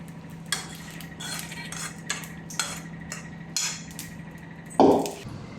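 Dishes being scrubbed by hand, with intermittent clinks and clatters of cutlery and steel pots knocking together, a sharp louder clank near the end, over a low steady background hum.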